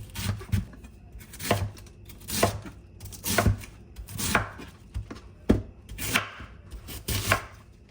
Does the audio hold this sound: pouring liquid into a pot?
no